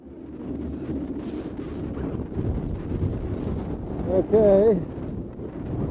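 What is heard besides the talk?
strong wind at sea during storm sailing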